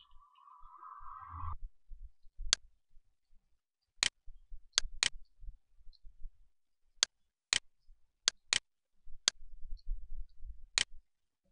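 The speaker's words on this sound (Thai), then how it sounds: "คลิกเมาส์ซ้ายค้างหนึ่งครั้ง" Sharp, isolated left mouse button clicks, about a dozen crisp ticks spaced irregularly across a quiet background, after a short faint tone at the start.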